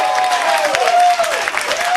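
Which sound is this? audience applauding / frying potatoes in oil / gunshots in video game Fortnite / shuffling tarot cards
audience applauding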